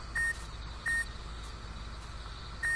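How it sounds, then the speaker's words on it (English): A landmine in Metal Gear Solid 3: Snake Eater gives short electronic beeps at regular intervals, three in all, over a steady background hum of game ambience. "I do believe I hear beeping."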